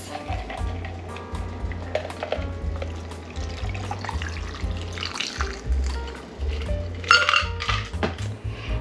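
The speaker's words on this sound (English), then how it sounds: "And pour on top of fresh ice." A margarita is poured from a shaker tin over fresh ice, a liquid trickle and splash mixed with ice clinks and light metal knocks, close by and moderately loud.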